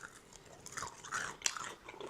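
Crunchy bacon-wrapped skewer being bitten and chewed close up, a brief burst of crisp crunching and mouth sounds, faint overall and without talk.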